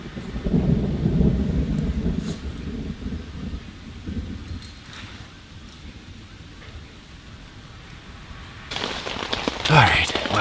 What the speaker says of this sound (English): We just had a giant storm roll in.